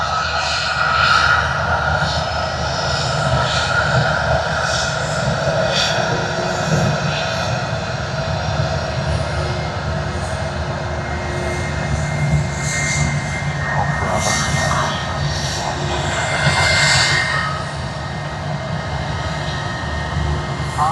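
Jetstar passenger jet arriving at Sydney Airport on a Sydney to Melbourne service, a loud, steady jet roar that holds throughout with no break.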